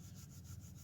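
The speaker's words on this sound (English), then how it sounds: "take it and rub the pine needles together like this to release the oils" Pine needles from a Christmas tree are rubbed together between gloved hands, making a faint, brief, steady scratchy rustle.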